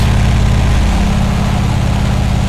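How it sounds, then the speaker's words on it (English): Simulated Mercedes NG1631 truck engine in Euro Truck Simulator revving from outside on a motorway slip road, a steady loud low droning rumble with a slight pitch rise, no talk. "Appreciate the nice sound from the outside. This is building up revs."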